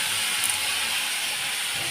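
Spice paste and cumin seeds sizzle loudly in a hot wok for fish curry, making a steady, close, broadband hiss with no break.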